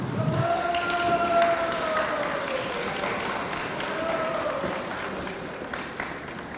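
Audience applause for prize winners at a county Easter festival in Sosnówka, a steady wash of clapping from a crowd that carries on for several seconds, with faint tonal music or hum underneath.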